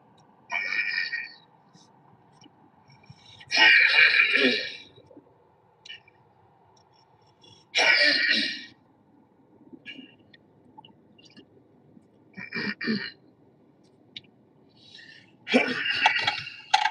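Someone clears their throat in several separate harsh bursts spaced a few seconds apart, with a few fainter scraps of sound and quiet gaps between them.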